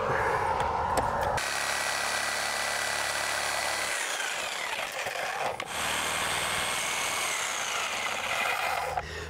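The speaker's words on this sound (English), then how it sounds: "now we grab the sawzall" A Sawzall reciprocating saw cuts into a church ceiling during a bathroom exhaust fan install, a steady loud buzzing rasp running continuously, with a brief pause and change in pitch midway.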